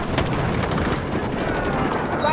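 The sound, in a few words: gunfire in Delta Force video game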